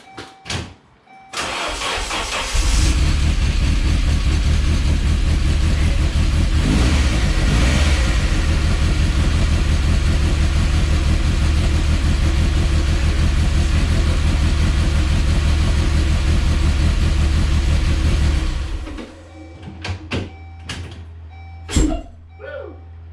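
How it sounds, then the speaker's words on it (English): A misfiring car engine in an old convertible cranks briefly, catches and runs loud and rough for about fifteen seconds with uneven revving, then shuts off, leaving a few faint clicks. "It's a pretty bad misfire."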